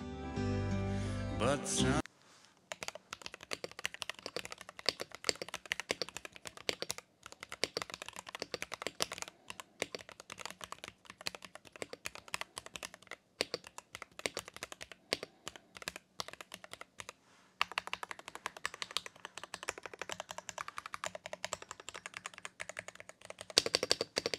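Close, steady typing on a Royalaxe Y68 mechanical keyboard, a rapid run of clacky keystrokes with brief pauses, preceded by a short burst of sound at the start.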